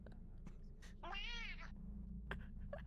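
A single clear cat meow, short and rising-falling, heard close over a steady low hum, with a few faint clicks and taps around it.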